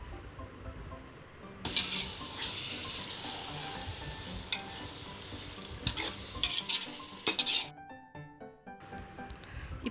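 Biryani masala with yogurt stirs and sizzles in a pan for chicken dum biryani, a steady close frying hiss that swells after a moment, with scraping stirs that scatter through it.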